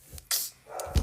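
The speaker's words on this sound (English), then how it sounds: "Sorry if you guys hear dogs barking." Dogs bark indoors in a couple of sharp, loud barks close by, with short gaps between them and no talk.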